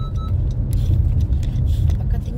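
A car moves through city traffic near a bus, with a steady low road rumble and a light jingle of keys while people talk inside the vehicle.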